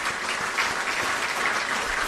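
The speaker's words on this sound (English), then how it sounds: "I believe we can do another big round of applause for His Excellency the President" Sustained audience applause for the president at a swearing-in ceremony for a new chief justice, a dense, steady wash of clapping from a large crowd heard alone throughout.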